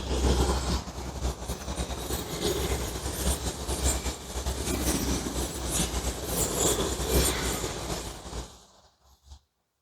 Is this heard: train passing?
yes